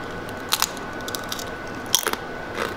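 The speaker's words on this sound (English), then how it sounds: "Do you hear that crunch?" Someone bites into crunchy chips, producing a few sharp, brittle crunches spaced apart against a quiet background, close and distinct.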